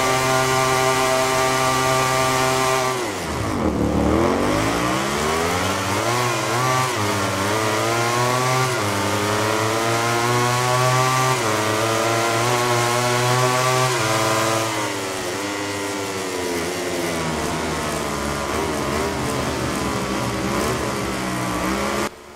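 Motorcycle engines in the MotoGP 17 racing game, loud and continuous: a high revving wail that drops sharply, climbs again through the gears and holds a sustained roar, with no talk.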